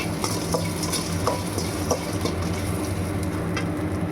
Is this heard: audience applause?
no